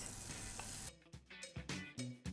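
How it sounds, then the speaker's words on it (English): Batter frying in hot oil gives a steady close sizzle that breaks into irregular crackling bursts and pops, with no talking. "We fry the rest of our batter"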